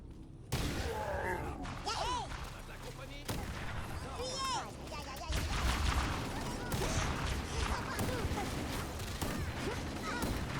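Fixed cannons fire in Halo: Combat Evolved, a steady barrage of booming blasts and explosions over game noise and effects, loud and continuous, with some talk mixed in.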